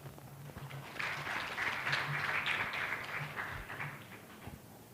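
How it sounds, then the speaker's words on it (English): A conference audience at a plenary session on mental health and addiction bursts into applause. The clapping swells quickly, holds for a few seconds, then thins out. It sounds like a room full of people with no one talking. "Let's give a round of applause"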